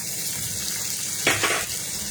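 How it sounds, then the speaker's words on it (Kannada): Finely chopped onions drop into a hot frying pan, raising a brief louder burst of sizzle over a continuous close hiss of frying oil, then settling back to the steady sizzle. "ಈಗ ಈರುಳ್ಳಿ ಹಾಕೋತಾ ಇದ್ದೀನಿ, ಸಣ್ಣಕ್ಕೆ ಹೆಚ್ಚಿರೋದು."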